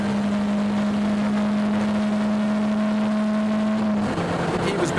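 A 4-cylinder BMW 318 E30 race car drives a track's back straight: a steady, loud engine drone holds one pitch, then drops sharply near the end, as if shifting gear or lifting off.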